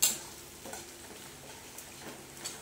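Ginger paste hits a pan already holding green chillies, giving a faint, quiet sizzle with a few soft stirring scrapes and light clicks from the spoon.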